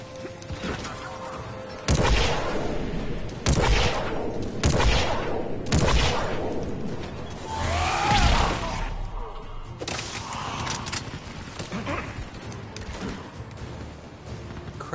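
Turret gunfire in the Mass Effect 3 video game: repeated loud booming bursts and volleys every couple of seconds over a game soundtrack, with sweeping effects in between and some background voices.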